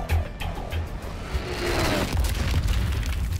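A bomb explodes in the Suicide Squad: Kill the Justice League video game. It lands as a heavy boom with a rumbling, crackling blast tail, followed by loud sustained roaring debris and fire noise.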